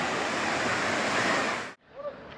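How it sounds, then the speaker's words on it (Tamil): A waterfall drops from about fifty feet in a loud, constant roar that cuts off abruptly, leaving quieter background sound with faint voices. "ஐம்பது அடி உயரத்தில் தண்ணி வருது"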